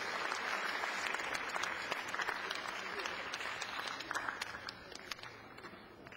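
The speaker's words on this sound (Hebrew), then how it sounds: "ברכות לזוכים, מחיאות כפיים." Sustained applause from an audience at the 2007 Dan David scholarship ceremony, steady dense clapping filling the hall throughout with no speech over it.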